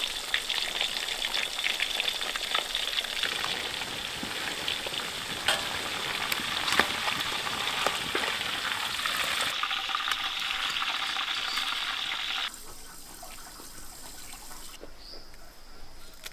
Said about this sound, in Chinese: 那个油热了，我们把鱼放进去炸。